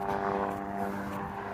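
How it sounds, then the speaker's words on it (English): Helicopter passes near a neighborhood close to an airport, a steady, droning engine hum with a layered tonal whine, moderately loud and continuous through the short span. "that's a helicopter."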